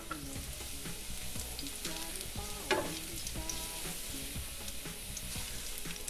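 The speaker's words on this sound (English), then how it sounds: "I'm gonna go in with 3 cloves of garlic sliced. Just let those saute for a second." Three sliced garlic cloves sauté in hot oil over medium heat, giving a steady, close sizzle with light crackling and occasional stirring clicks from start to finish, with no talking.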